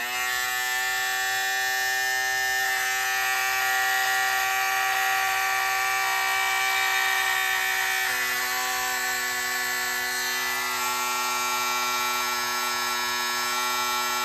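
An Andis electric shaver runs continuously after being switched on, giving a loud, steady, high-pitched buzzing whine with strong tonal harmonics that never lets up.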